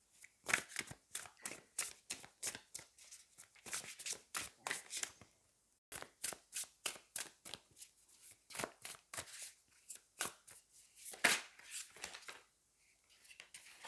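Tarot cards being shuffled by hand in repeated crisp riffling bursts, close and fairly quiet, with a short pause midway before the rhythmic flicking resumes.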